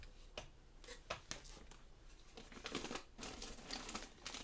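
A plastic bag holding dried apricots rustles and crinkles in short irregular bursts, close and fairly quiet, with no talking.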